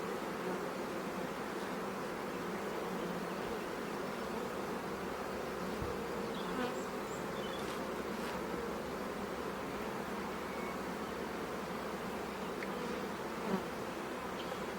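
Honeybees buzzing in and around hives during a spring beehive inspection, a steady dense hum of many bees close by, with no talk.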